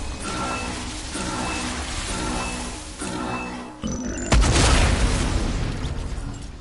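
A Brute vehicle self-destructs in a video game, ending a steady mechanical hum with a sharp build-up and then a loud, close, booming explosion that rumbles and fades out.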